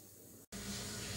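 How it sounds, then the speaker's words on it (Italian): Water at a rolling boil in a pot for pasta, a steady broadband hiss and bubbling roar that cuts out briefly midway, then returns louder and continues close and unbroken. "L'acqua bolle, quindi ho messo anche la pasta."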